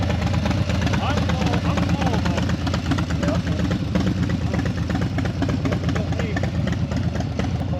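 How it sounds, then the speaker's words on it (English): A motorcycle engine runs at a steady rough idle, loud and close, with a continuous throbbing rumble and no talk. "we got the bike started"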